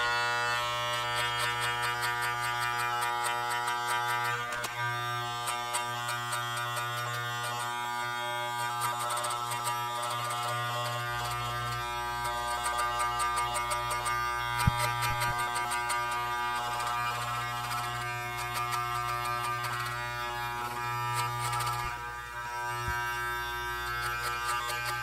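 Electric hair clippers buzz through hair with the lever open and a number 1 guard fitted, producing a steady, close-up motor hum with a shifting low tone and brief crisp snips.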